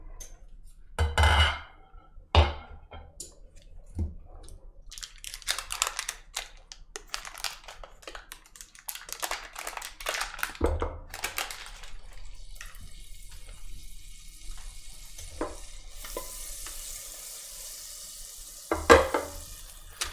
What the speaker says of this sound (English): I'm gonna throw 4 tablespoons of butter in here